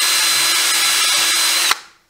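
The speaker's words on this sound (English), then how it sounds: "I'm going to do is drill a hole in the middle of this thing so that the wires can fish" Power drill boring a hole through a marker light backing plate for a pop-up camper, one continuous high whine that stops abruptly near the end, close and loud with no talk.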